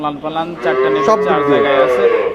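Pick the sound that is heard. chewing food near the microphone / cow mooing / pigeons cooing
cow mooing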